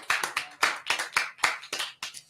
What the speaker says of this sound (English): Give another round of applause for the chef